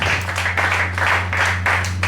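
A church congregation claps together in rhythmic bursts of applause, steady and fairly close, over a low constant hum.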